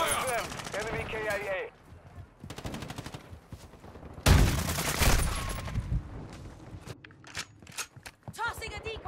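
Rapid automatic gunfire bursts and single shots in a Call of Duty: Modern Warfare II firefight, loud and close, with a heavy blast midway and voices talking over the action.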